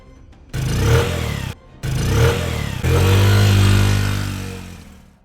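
A motorbike engine revs in short bursts, two rising roars separated by brief pauses, then a sustained loud drone that fades out, close and alone on a canal bank.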